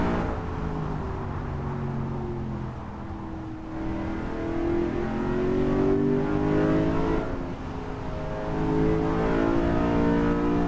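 Race cars running behind the safety car before a rolling start at Spa-Francorchamps, a steady layered engine drone with slowly rising and falling pitches from several cars, continuous and fairly close.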